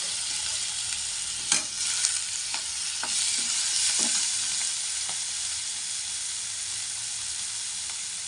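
Chopped tomatoes hiss and sizzle steadily in a hot pan with turmeric for a Maharashtrian dish, broken by a handful of sharp scraping clicks as a spoon stirs the mix, close and alone without talk.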